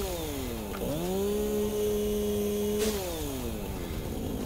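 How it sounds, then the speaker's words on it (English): A chainsaw cutting plants in a video game whines with a rising, steady engine tone that holds for about two seconds and then drops away, over a constant noisy background. "Swap in the chainsaw. Just chop a little bit of plant clearing here."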